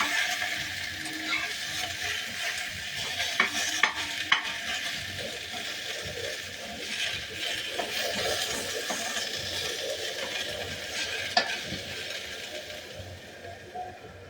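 Slices of ash gourd fry in a lightly brushed pan with a soft continuous sizzle, broken by occasional clicks and scrapes of a utensil, close and quiet.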